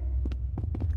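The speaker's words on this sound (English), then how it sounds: "You can hear his heartbeat." A heartbeat in a VR video game, a low muffled throbbing of paired beats repeating steadily over a constant hum, fairly close and moderately loud.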